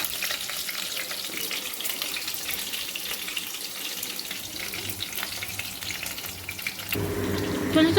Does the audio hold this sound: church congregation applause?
no